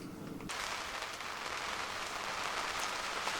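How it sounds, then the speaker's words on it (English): Steady rain patters down across a surface at a narrowboat mooring, a dense continuous hiss of drops that starts abruptly and holds at an even, fairly loud level. "it started raining again"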